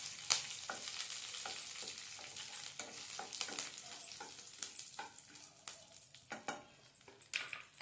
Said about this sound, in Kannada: ಸ್ವಲ್ಪ ಕರಿಬೇವು, ಇಷ್ಟು ಹಾಕ್ಕೊಂಡು ಫ್ರೈ ಮಾಡ್ಕೊಳ್ಳೋಣ